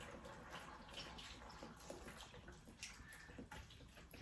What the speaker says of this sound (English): I'm just gonna go in with some beef stock here